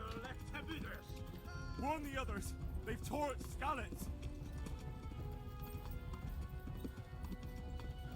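Horse hooves clip-clop in the medieval video game Kingdom Come: Deliverance, a steady rhythmic gait under game music, with a few whinny-like tones and someone talking over it.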